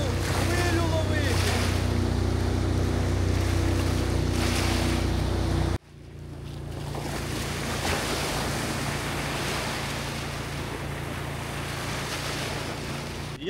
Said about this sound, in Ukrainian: Зараз буду хвилю ловити.